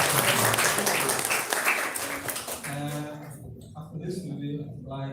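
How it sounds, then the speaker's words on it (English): An audience applauds at the close of a guest lecture session: dense, crowded clapping fills the first half at close range, then thins out as a voice starts talking over the fading applause. "please give an applause to"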